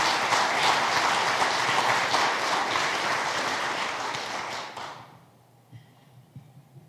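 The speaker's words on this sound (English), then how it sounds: "let's give them all a round of applause" Dense applause from a crowd at a city summit address fills the room steadily for nearly five seconds, then drops abruptly to a quiet hall with a few faint scattered claps and taps.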